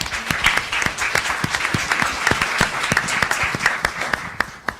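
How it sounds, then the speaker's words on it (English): An audience at a live panel discussion on communications careers breaks into applause, a dense, lively round of many hands clapping together, fairly loud and sustained throughout. "How about a big round of applause for our tablers?"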